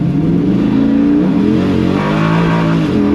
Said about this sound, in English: You can feel it spinning the left-hand wheels as it's trying to fight for grip.